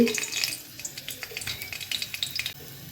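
Dried red chillies dropped into hot oil in a wok for tempering, a light crackling sizzle with scattered clinks and scrapes of a utensil against the pan, close and fairly quiet.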